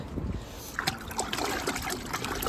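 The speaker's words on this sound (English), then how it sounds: "And I'm just rinsing them in my Yeti bucket." Freshly cleaned yellowtail snapper are rinsed by hand in a Yeti bucket of water outdoors, with quiet sloshing, splashes and trickling drips in short, uneven bursts.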